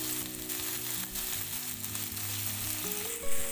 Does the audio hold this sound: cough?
no